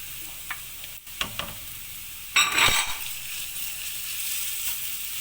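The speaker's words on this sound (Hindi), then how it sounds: "अब हम इसमें ये गार्लिक पेस्ट डालेंगे।" Garlic paste hitting hot onions in a frying pan gives a soft sizzle that swells briefly around the middle, with light stirring clicks before it and a steady low frying hiss after.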